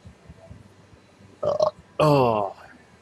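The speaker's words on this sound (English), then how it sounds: "That's beer number 3 burp." A burp after drinking beer, one short sputter followed by a longer loud belch close up.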